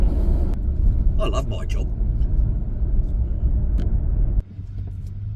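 Steady low rumble and road noise from an electric truck driving along the road, heard from inside the cab, with someone speaking over it briefly before the rumble drops off.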